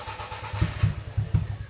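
A car engine is cranked after a leaking fuel return line was tightened. The starter turns over in a quick, even rhythm of pulses up close and never catches within the short burst.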